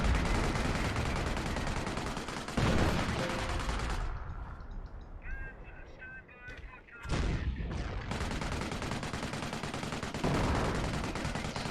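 Tank guns fire in a war video game with a Sherman, a Firefly and a Panther in the battle: loud, dense rumbling blasts that break off for a few seconds of quieter in-game sounds, then return with heavy sustained booms, close and forceful.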